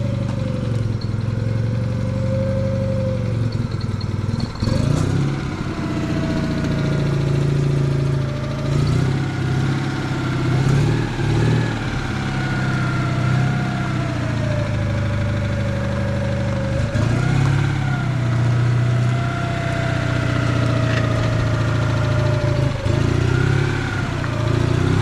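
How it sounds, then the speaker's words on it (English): A Citroen 2CV's small engine idles close by with a blowing exhaust, a loud uneven putter with steady low pulsing and occasional revs and dips, heard alone without any talk. "The exhaust is blowing."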